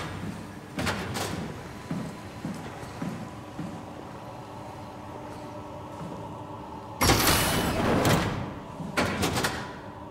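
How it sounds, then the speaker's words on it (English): Doors in the video game SOMA close with heavy mechanical thuds and a loud slam-like burst, over a constant low ambient hum in a sealed underwater facility. "I am happy to seal her off behind many, many doors."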